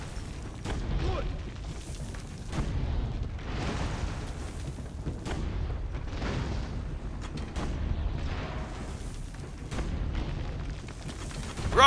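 Medieval tank cannon in Assassin's Creed Brotherhood firing fast, a run of heavy booming blasts at close range, one after another with little pause between them.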